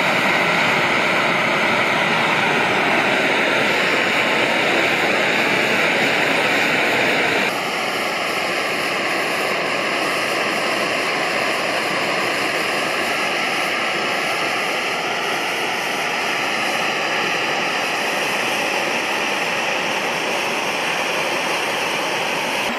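A Primus OmniLite-Ti camping stove burner roars at full flame, a loud, steady jet-like rush that holds unbroken for over twenty seconds, stepping slightly in tone partway through, with no talking.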